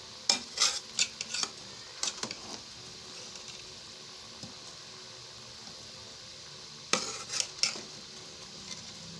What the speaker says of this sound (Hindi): मैं इस तरह हल्का सा हिला लूँ इसको